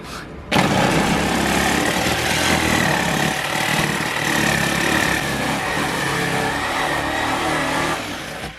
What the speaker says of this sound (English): Just use the jigsaw down there to cut it out.